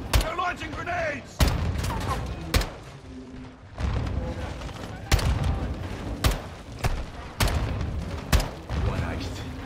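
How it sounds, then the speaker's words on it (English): Enemy grenade launcher fire in Call of Duty Modern Warfare 2, a series of sharp blasts spaced a second or so apart over constant battle noise, with soldiers shouting between the explosions. "They're launching grenades!"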